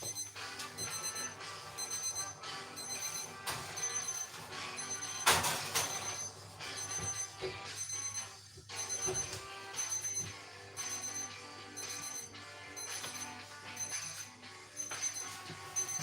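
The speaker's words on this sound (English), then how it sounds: "You can see it's beeping, it's ready," Kitchen oven beeping to signal shortbread is ready, a steady run of repeated electronic tones under a faint background hum, one brief louder clatter partway through, no talk.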